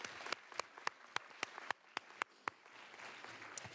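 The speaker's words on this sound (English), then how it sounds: "let's give all those people a round of applause" Faint, scattered hand claps from a small audience at a school writers week event, about a dozen sharp, evenly spaced claps over a quiet room.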